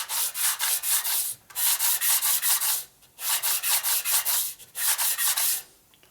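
A part from a 1965 Harley-Davidson 74ci FLH panhead motor is rubbed by hand on sandpaper in a rebuild, a close, rhythmic scraping in quick strokes grouped into bursts with brief pauses.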